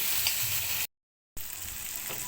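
Chopped tomatoes sauté with onion in an oiled pan, giving a steady close sizzle broken by a brief silent gap before the hiss resumes, with no talking.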